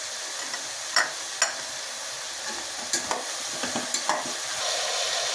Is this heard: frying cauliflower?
yes